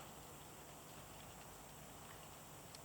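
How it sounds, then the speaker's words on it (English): Wet, heavy snow melting quickly from trees just above freezing, dripping steadily in a dense, even patter much like light rain, soft and continuous with no voices. "Sounds like it's raining, but that's just the snow melting quite profusively"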